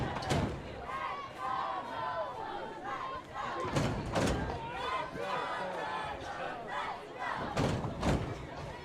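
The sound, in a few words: home football crowd cheering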